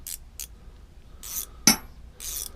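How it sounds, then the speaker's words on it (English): Ratchet wrenches from a toolbox are handled, giving short metallic clicks and rattles in several separate bursts, with one sharper clink; close and fairly quiet. "I actually have a set of these with these ratchet wrenches"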